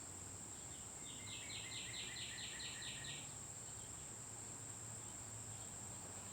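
Steady crickets trill outdoors under a constant high insect whine, with a brief run of bird chirps in the middle; calm, even background.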